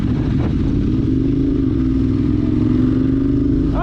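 A Ducati 848 motorcycle being ridden, its engine a loud, steady close-up drone with a slight rise in pitch and some wind and mechanical clatter.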